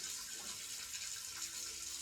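Cold water from a kitchen tap runs steadily over boiled eggs on a plate, a soft, even hiss and splash heard alone at low level.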